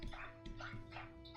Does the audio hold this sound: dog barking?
yes